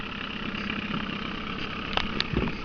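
A small 5.5 hp outboard boat engine idles steadily while towing an inner tube, a continuous low drone with a few brief knocks and splashes near the end.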